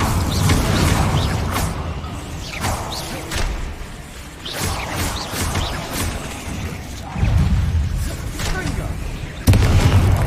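Confringo spell blasts in the video game Hogwarts Legacy, several booming explosive bursts and whooshes amid continuous combat noise, with a player speaking over the action.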